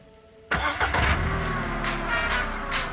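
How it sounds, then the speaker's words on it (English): A car engine cranks and catches after half a second of quiet, then settles into a loud, steady idle close by with slight fluctuations in its rumble. "start the engine"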